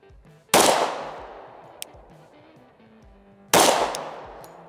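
Two loud, close pistol shots fired at a target on a range while sighting in a red dot, spaced about three seconds apart, each with a sharp crack and a ringing decay.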